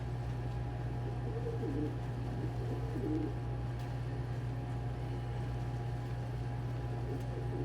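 Two male pet pigeons coo softly in low, rolling bursts over a steady low hum, the calls fairly close but gentle.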